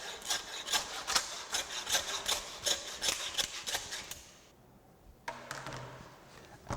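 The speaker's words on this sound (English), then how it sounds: "To finish the process with my handsaw, all I have to do is slice through the remaining 3 ribs." Handsaw cutting through the last three beef ribs while chipping the back of a hind quarter. A dozen or so quick, rasping strokes come in a steady rhythm, close and clear, then a short pause before a few more strokes.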